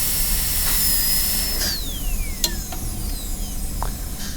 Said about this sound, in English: put the burr right on top of the DEJ and drill gingerly